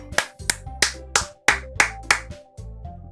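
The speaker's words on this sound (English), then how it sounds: "I'm the first one to start applauding" Several sharp hand claps of applause in the video game Doki Doki Literature Club ring out one after another with a steady tone humming underneath, about eight claps spaced evenly, close and clear.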